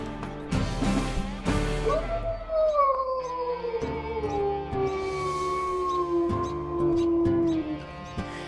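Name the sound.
wolf howl from the video game WolfQuest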